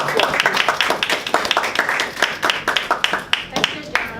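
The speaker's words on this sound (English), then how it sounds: "So please give her a round of applause." A small audience at a Toastmasters evaluation session claps in a quick, uneven patter of individual hand claps, fairly close and loud, lasting a few seconds.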